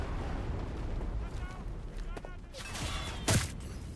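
A video game battle rumbles with a constant low roar of explosions and distant gunfire, capped by one sharp, loud blast near the end, while a voice speaks over the combat.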